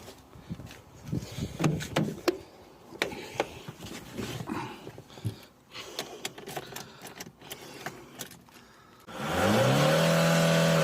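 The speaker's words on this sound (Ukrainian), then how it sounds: "Машинка газується, аварійного режиму нема, помилок нема." Scattered clicks and light mechanical handling noises in a repair shop, then an Opel Vectra C engine, with EGR and swirl flap connectors unplugged, roars up and revs loudly and steadily close by for the final couple of seconds.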